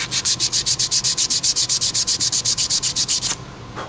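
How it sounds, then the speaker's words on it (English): Sandpaper rubbed back and forth by hand over a rusty, crusty wheel hub on a Toyota Camry during a brake job, about two dozen quick, even strokes in a steady rhythm, close and loud, then stopping. "give it a little sand, and it'll feel smoother"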